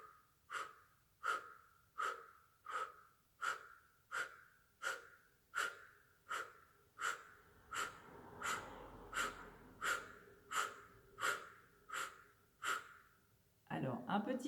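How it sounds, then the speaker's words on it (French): Rhythmic abdominal breathing exercise, about seventeen forceful exhalations at a brisk even pace, each a sharp close breath burst, ending with a brief muffled sound. "on se concentre dans cette respiration abdominale"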